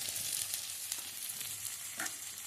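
Onion, cumin and spices fry in hot oil for a dal tadka, giving a dense, continuous close sizzle with a few soft stirring clicks; no talking.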